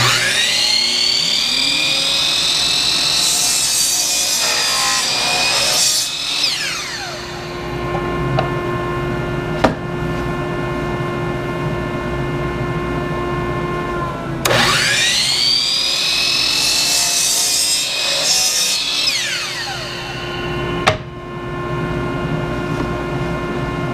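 A power saw cuts pine 1x4 boards into 24-inch pieces against an end stop. Two cuts each spin up to a sharp, loud motor whine, bite through the wood and wind down, with a steady lower hum and small clicks between them.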